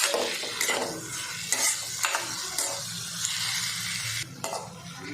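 Tomato chutney with salt cooks over a medium flame in a pan, a soft continuous simmer and sizzle broken by repeated scraping strokes of a spoon stirring, close and moderately loud, no talking.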